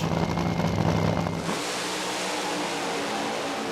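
Nitro funny car at Willowbank Raceway roaring down the drag strip, a loud broadband blast that cuts off abruptly after about a second and a half, leaving a steady engine wash.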